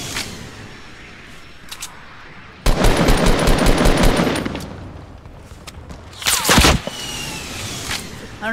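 Gunshots ring out in a Fortnite match, with a loud burst of rapid fire and then a second sharp cluster of shots, both close and punchy over quieter game background.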